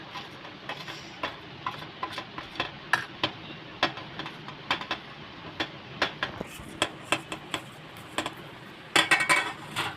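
Moong dal cutlet mixture with coriander, onion, carrot, capsicum, salt and black pepper being stirred together in a bowl: repeated close scraping and clinking strokes at an uneven rhythm, with a louder flurry of knocks at the end, no voice.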